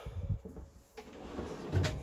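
A retractable kitchen drawer in a Hobby 495 caravan slides open with a soft rolling rumble and a light knock at the end, heard up close inside the caravan without speech.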